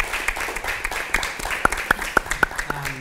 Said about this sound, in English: why don't we give a round of applause to Mark.